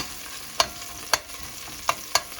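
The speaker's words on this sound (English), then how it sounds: "So let this fry a little." Tomato paste fries in a pot for beans and rice, giving a steady low sizzle. Sharp spoon taps and scrapes against the pot cut through it at intervals.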